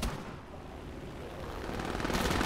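Sustained rattling gunfire from bot aircraft shooting at the player's plane in War Thunder, a dense continuous broadband barrage that swells slightly louder toward the end, with no talk.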